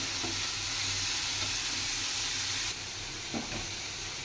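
Chopped onions frying in a pan for a dried-shrimp curry, a loud continuous close-up sizzle that drops slightly partway through, with a couple of faint stirring knocks.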